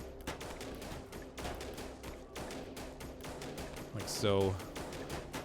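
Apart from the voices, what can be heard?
sniper gunfire in the video game They Are Billions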